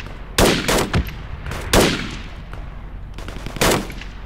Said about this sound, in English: shots fired south